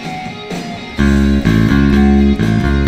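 An electric bass in standard tuning plays a riff that leans on ringing open strings, a few quiet notes first and then loud, sustained low notes that bounce on and off one another in a steady rhythm, with no talking.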